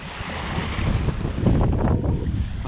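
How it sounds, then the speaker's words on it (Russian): Warm wind blows across a waterfront in Zaporizhzhia, buffeting the microphone with a steady, close, low rumble that swells and eases over a few seconds. "Теплый ветер."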